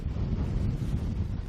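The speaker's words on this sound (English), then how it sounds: "It's quite windy." Steady, strong wind buffeting the microphone, a continuous low roar with no voices.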